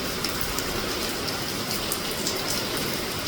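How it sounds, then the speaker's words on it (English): Heavy rain pours down during a big storm in Jamaica, a dense steady hiss of falling water throughout with no talk. "Look at that rain."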